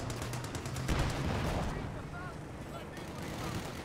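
Gunfire from an MG42 machine gun in a Company of Heroes style strategy match, a dense rattling mix of bursts and distant shots running continuously through the stretch at moderate volume.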